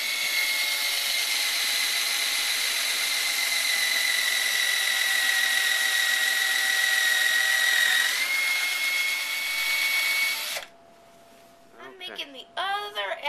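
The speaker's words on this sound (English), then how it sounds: "What are you drilling?" A power drill whines steadily and loudly for about ten seconds with a slight dip in pitch while drilling holes for a Pinewood Derby car, then stops, followed by brief voices.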